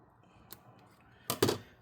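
Scissors snipping through a Thermal Grizzly PTM7950 thermal putty pad for a Lenovo ThinkPad P16 Gen 1 laptop: a faint single snip, then a louder, crisper pair of close cuts in a quiet room.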